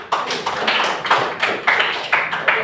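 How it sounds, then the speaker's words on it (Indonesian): A classroom group claps in a quick, rhythmic pattern of about nine sharp, bright bursts, close and fairly loud, with no talking over it. "Bagus, tepuk tangan Pak Gli."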